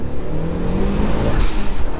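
A Mitsubishi Evo 8 FQ300 accelerates hard in first gear on salty snow roads, a loud, continuous engine roar heard close from inside the car.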